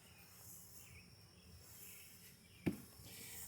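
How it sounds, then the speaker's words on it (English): Honeybees buzz in an opened beehive super, a faint, steady, continuous drone heard up close, broken once by a single sharp knock against the wooden box. "Oh yeah, lots of bees up here in this super."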